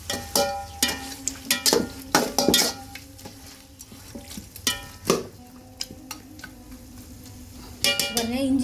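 A spoon stirring chicken with masala in a pot, scraping and clinking against the metal in irregular bursts, with a faint sizzle beneath, close and moderately loud, no talking.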